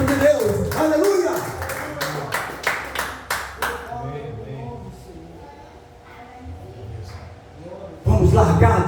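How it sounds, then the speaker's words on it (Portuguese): A church congregation clapping together in rhythmic bursts for a few seconds, then a voice over quieter background, with loud sound returning near the end. "Aplauda o Senhor."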